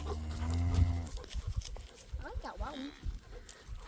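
Cattle on a small-town Alabama farm, with a mother cow letting out a long, low, loud moo near the start, followed by fainter bellows and scattered commotion while people talk nearby.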